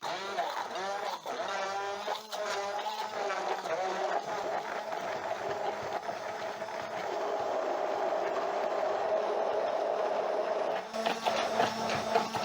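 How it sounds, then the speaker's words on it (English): A hand blender purees tomatoes for a vegetarian stew, its motor whirring steadily at close range, with a voice heard briefly at the start. "Pick my blender, my hand blender. I have a socket over there, and then I'm going to blend my tomatoes."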